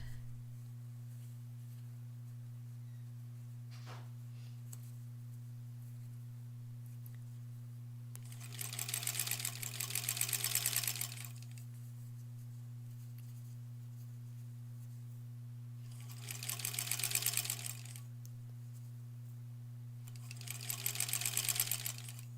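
A sewing machine stitches quilt block pieces in three separate runs, each a rapid mechanical whirr lasting a few seconds. Quieter pauses come between the runs, and a steady low electrical hum continues throughout.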